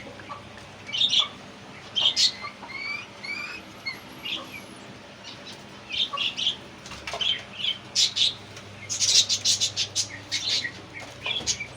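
Pet parrots and a grey cockatiel give repeated sharp chirps, whistles and squawks in bursts, close and fairly loud over a quiet background.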